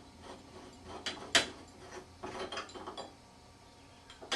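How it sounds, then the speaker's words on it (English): Metal cover plate being unscrewed from a shower valve, giving a few scattered clicks, scrapes and grinding turns at close range, with short quiet gaps between them. "Now we can unscrew the silver plate."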